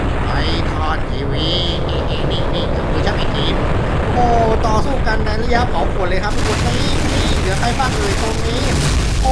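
A nuclear bomb detonates in a Skibidi Toilet video game amid loud, continuous booms, rumbling blasts and gunfire-like bursts, with game sound effects layered throughout and a person talking over the din.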